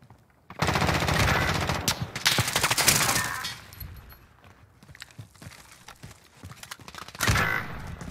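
Video game gunfire comes in loud bursts of rapid machine-gun shots, with a long burst early, a quieter stretch of scattered clatter, and another sharp burst near the end.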